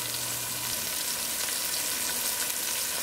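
A pot of callaloo stew hisses and simmers with a steady, even sizzle while being stirred, no voices present.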